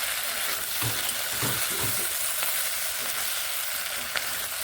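Onion stalks (piyaj koli) are stirred in a hot pan between covered spells, giving a steady close sizzle with a few soft scraping strokes near the start and a faint clink later.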